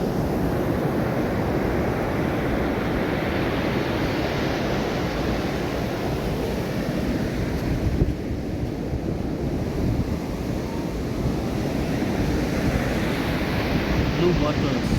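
Ocean surf at Durban beach in South Africa makes a continuous broadband roar of breaking waves, steady and loud throughout, mixed with wind buffeting the microphone.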